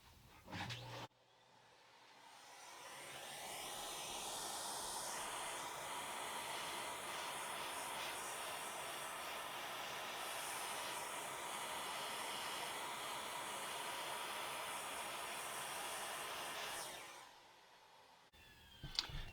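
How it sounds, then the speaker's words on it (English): A vacuum cleaner runs with a steady, loud whooshing drone for most of the clip, starting and stopping abruptly. "I'm going to take the vacuum"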